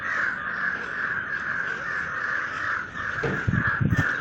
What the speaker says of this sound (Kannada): ಎಲ್ಲಿ ಕಾಗೆ ಎಷ್ಟೊಂದು ಕೂಗ್ತಿದ್ದಾವೆ ಅಂತ ಗೊತ್ತಾಗ್ತಾಯಿಲ್ಲ